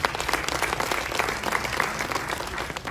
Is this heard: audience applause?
yes